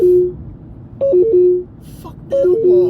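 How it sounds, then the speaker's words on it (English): A mobile phone ringtone plays a repeated short melodic figure of high steady tones, sounding in three bursts about a second apart, loud and close over faint background noise. "I just got a fucking phone call, so it just cuts everything off"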